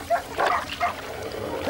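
Wild dogs bark and yip at a cobra in a few short, sharp bursts over rough outdoor background noise, fairly close.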